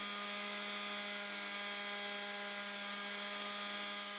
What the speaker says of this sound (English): sand the edge of the bottom part until it fits snug into the box